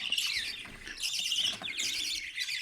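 Baby birds in a nest give thin, high, dense chirping and peeping in continuous overlapping bursts, close and fairly loud.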